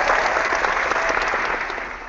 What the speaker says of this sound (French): je m'applaudis si tu veux